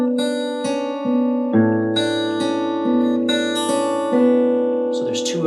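An acoustic guitar is fingerpicked in the pattern from a song: a thumb-plucked open bass string, then rolling plucks across the upper three strings, repeated in a steady ringing cycle, close and clean.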